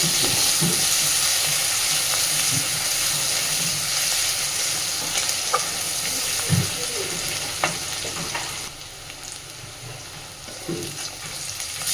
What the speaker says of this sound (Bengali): পেঁয়াজ রসুনটা দিয়ে একটু ভাজা ভাজা মতন করে নেব।